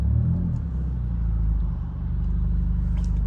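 An 11th-generation Honda Civic with its exhaust removed cruises onto a highway, giving off a loud, droning low engine rumble that stays steady throughout and swells slightly near the end.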